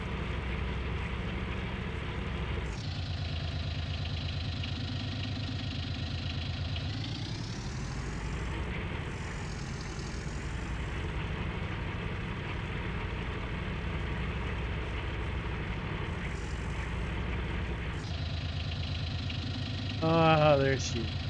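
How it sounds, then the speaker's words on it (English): Big tractor in the Farming Simulator 19 game on a coastal farm, its engine droning steadily at idle with shifts in pitch, plus a short high chirping near the end. "Thought we'd go ahead and hook up to the big tractor"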